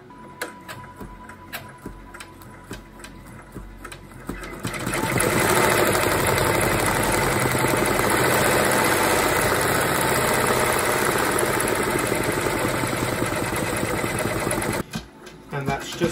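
Embroidery machine stitching a graphic onto a pre-made patch, a loud steady mechanical whir with rapid needle chatter starting a few seconds in after a quieter stretch with voice, running continuously before briefly stopping near the end.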